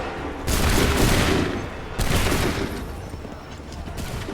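Musket volleys ring out in Assassin's Creed 3 Remastered as massed soldiers fire together, two loud, close crackling fusillades each trailing off into a rumbling echo, followed by quieter scattered battle noise.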